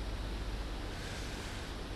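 A waterfall in the video game I Am Alive makes a continuous, even rushing roar of falling water, steady throughout at low volume with no other sounds.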